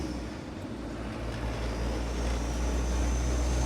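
A 1989 Land Rover Defender 90 with a 2.5L TDI diesel and its soft top removed, driving up to speed; a steady low engine drone with rising wind and road noise, close and continuous.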